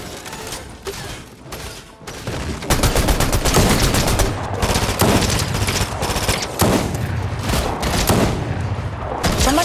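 Rapid automatic gunfire from a Fortnite squads match rattles in dense, continuous bursts, growing louder and heavier after the first few seconds and staying close and intense throughout.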